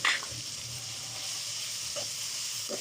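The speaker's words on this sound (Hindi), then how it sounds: "अब हम इसको भून लेते हैं।" Mixed vegetables fried in a pan with ground chilli, turmeric and salt for a dhaba-style sabzi, giving a steady close sizzle with a few faint stirring scrapes and no talk.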